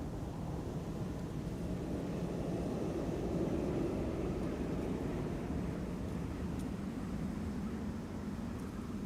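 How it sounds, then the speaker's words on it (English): An Embraer 190 airliner takes off at Amsterdam Schiphol, a broad, steady, distant roar with wind noise on the microphone and no talking. "The Embraer 190 to Dublin, in the meantime taking off over here."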